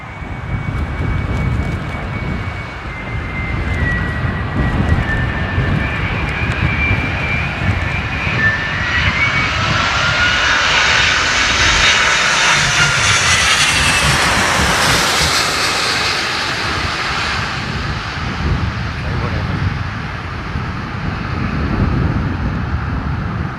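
Airliner carrying the Spanish Prime Minister landing at London Heathrow in a crosswind, a loud sustained jet engine roar that swells and sweeps in pitch as the plane passes close by, with a continuous windy rush underneath.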